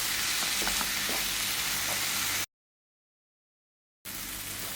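A jaggery mixture for sukhiyan being stirred in a pan on the stove, with steady close sizzling and scraping that breaks off into silence for over a second and a half before resuming.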